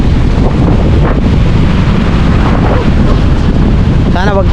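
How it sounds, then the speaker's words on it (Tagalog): Strong gusting wind buffets a GoPro microphone outdoors near water, a loud continuous low roar filling the clip, with a brief voice near the end. "lakas ng hangin guys. Siguro dinig na dinig yun sa GoPro."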